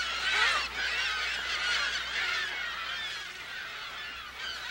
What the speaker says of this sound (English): the piercing cry of gulls breaks the desert stillness